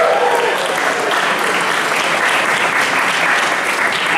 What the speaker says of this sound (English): applaud if you are optimistic about Cincinnati's future